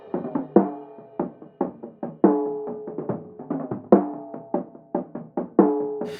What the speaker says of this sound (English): So the mid-range, 250 to 1K on a drum kit sounds like this.